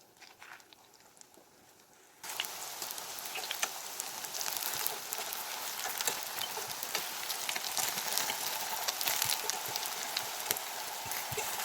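Crepe batter hitting hot oil in a frying pan and sizzling, a dense steady crackle that starts abruptly after a quiet moment and keeps going unbroken.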